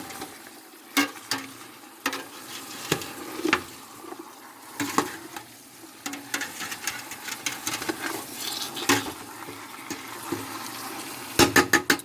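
Garlic fries in a pot as the base for homemade chicken noodle soup, giving a soft sizzle with scattered sharp clinks and scraping stirs. Sounds are close and intermittent, and a louder burst of clatter comes near the end.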